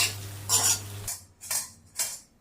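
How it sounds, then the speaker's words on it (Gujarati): A utensil stirs dhokla pieces with cooked green chillies in a pan, three or four distinct scraping strokes close by with short pauses between them and no talking. "હવે નાખી દઈએ ઉપર આપણે ઢોકળા, અને હવે એને મિક્સ કરી લઈએ"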